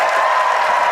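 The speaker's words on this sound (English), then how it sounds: "And while we have you clapping there on the count of 3, give them all a big cheer." Spectators at a 275mm tree felling contest final break into dense, steady applause and cheering, a loud close wash of many hands that fills the whole moment.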